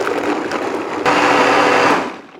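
A blender whirring through a sauce of roasted poblano, lime and avocado oil with a little water added, a loud, steady motor roar that shifts up in pitch midway, then winds down at the end, no talking.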